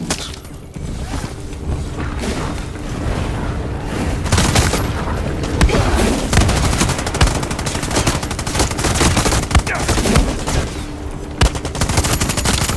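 Rapid automatic gunfire from a weapon in Far Cry 6 rattles in long bursts with loud repeated shots, mixed with game effects and mechanical clacks throughout.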